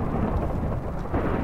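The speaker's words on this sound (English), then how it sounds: "I hear thunder." A low, continuous thunder rumble from Minecraft rolls through the whole short moment, steady and fairly loud with no voices over it.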